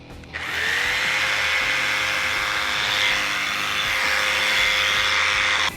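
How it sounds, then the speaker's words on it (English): A multi-purpose drill bit whines steadily as it pre-drills and countersinks hard timber decking, a close, loud, continuous power-tool drone that holds for several seconds after a brief start. "This multi-purpose drill bit is well worth having, and pre-drills and countersinks all in one go"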